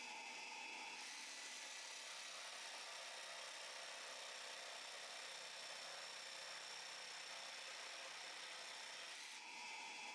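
Evolution R90JGS-Li cordless jigsaw cutting through wood, a steady buzzing, rasping whine that starts abruptly, holds evenly for about eight seconds close by, then stops, with no talking.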